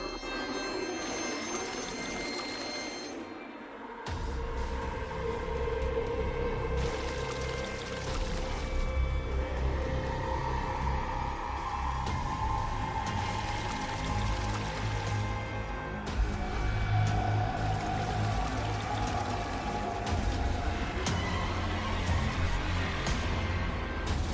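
Water poured out for a child to drink after spitting out dirt, a steady pouring and trickling wash running for most of the stretch, fairly close, with the level rising after a quiet start.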